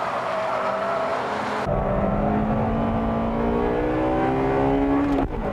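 A heavy Toyota Supra and other 280-horsepower Japanese sports cars, including an NSX, GT-R, RX-7 and Integra Type R, race on a wet circuit, with a loud engine revving and climbing steadily through the gears up close, and no talk.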